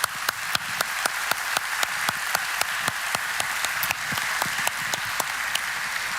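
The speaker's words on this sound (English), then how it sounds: "if everyone could please give a round of applause to our amazing panelists" Steady applause from a conference audience in a large auditorium at the close of a panel, with a few louder individual claps standing out over a dense, even wash of clapping throughout.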